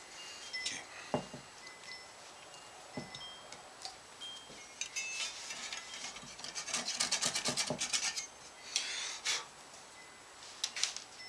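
A chisel scrapes and pares wood while guitar fretboard inlays are fitted, giving quiet close rasping strokes and small ticks, with a denser run of quick scraping in the middle.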